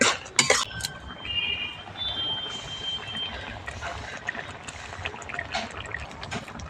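A metal utensil clinks against a pan while yellow mustard paste is mixed into a raw green tomato curry: a few sharp clinks at the start, then soft, wet stirring and scraping close by.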